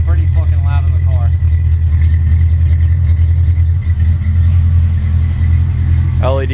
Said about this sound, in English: That's the exhaust all the way down there, so it's pretty fucking loud in the car.